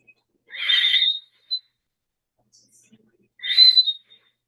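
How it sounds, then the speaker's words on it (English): A person does a whistling inhalation for Sarathasana pranayama, drawing two separate high, airy whistled breaths with a quiet gap between them, close and clear. "where you will be inhaling like whistle"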